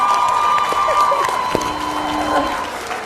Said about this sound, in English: Can we have one more round of applause for that incredible performance?